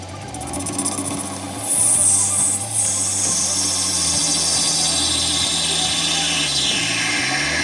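Lathe turning a blue and gold resin cast blank for a shaving brush: a steady motor hum with layered tones and a continuous scraping, hissing cut from the tool, fairly loud and close throughout.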